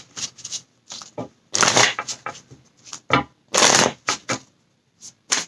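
Oracle cards are shuffled by hand for a reading, giving close, crisp riffling bursts of varying length separated by short silences, with no voices.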